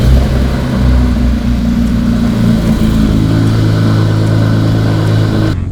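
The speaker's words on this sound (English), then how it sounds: "Cold start, Klein Infinel exhaust." A Porsche 997 GT3 with a Klein Infinel aftermarket exhaust starting cold, its engine settling into a loud, steady, deep idle drone that runs without pause before cutting off abruptly.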